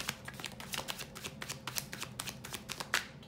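Tarot cards are shuffled by hand close up, making a steady run of crisp, rapid riffling flicks with no one speaking.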